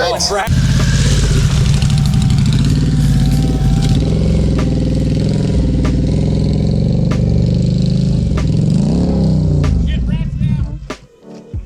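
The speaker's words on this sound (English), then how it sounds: "We technically have video of Willie's bike going down too" A motorcycle engine from replayed footage of a dual-sport ride, a loud close rumbling drone with shifting revs and wind noise, people talking over it, fading out at the end.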